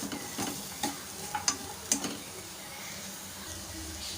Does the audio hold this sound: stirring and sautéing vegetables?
yes